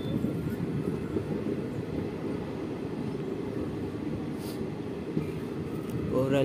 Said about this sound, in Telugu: ట్రైన్ చాలా స్లోగా వెళ్తుంది, నిదానంగా